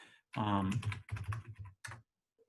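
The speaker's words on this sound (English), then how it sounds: "Oops, I typed on the wrong spot." Computer keyboard typing at a terminal, a few quick keystrokes nearly buried under a person speaking up close.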